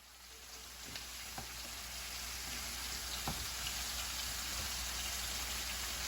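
Chicken fries in a cast iron skillet on a stovetop, a steady dense sizzle with occasional sharp pops and crackles, close and continuous without talk.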